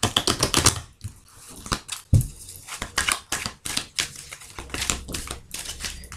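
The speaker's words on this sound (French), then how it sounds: "je vais mélanger le jeu" A deck of tarot cards being shuffled by hand during a horoscope reading, a series of close, crisp riffling and tapping bursts in an uneven rhythm with short pauses between them, with no voice.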